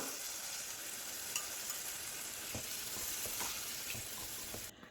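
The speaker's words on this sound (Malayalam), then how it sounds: "ഇനി നമുക്ക് ഇതിലേക്ക് വേവിച്ച് വെച്ച കടല ഇട്ട് കൊടുക്കാം" Boiled white chickpeas hit hot masala in a pan, giving a steady, close sizzle and frying hiss with faint stirring scrapes throughout, then cutting off near the end.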